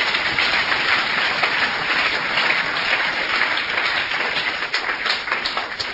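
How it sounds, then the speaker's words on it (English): A church congregation gives a clap offering, dense sustained applause from many hands filling the room at a steady, loud level for the whole stretch. "Give the Lord a clap offering."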